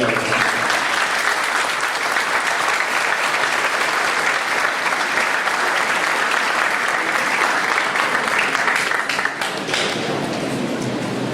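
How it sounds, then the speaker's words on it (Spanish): Conference audience applauding a lecturer after a legal talk, dense sustained clapping from many hands filling the whole stretch at steady loudness, easing slightly near the end. "Es muy merecido brindarle nuevamente un fuerte aplauso"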